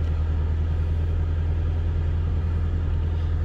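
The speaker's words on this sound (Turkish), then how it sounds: "Motor çalışıyor." A 2020 Shelby GT350 engine runs steadily at idle with a deep, constant, close rumble and no voices.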